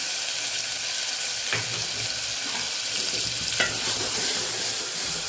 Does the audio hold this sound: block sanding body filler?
no